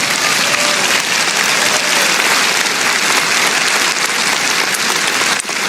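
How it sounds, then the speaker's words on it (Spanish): Loud, dense applause from a church congregation, a steady wash of many hands clapping close and continuously, tapering slightly at the very end. "Vamos, dale un aplauso al Señor."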